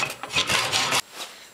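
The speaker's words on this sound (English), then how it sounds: "we'll just show you with this little hand saw here today" A small hand saw rasps through wood for a frame in quick, close strokes for about a second, then stops, leaving a faint scrape.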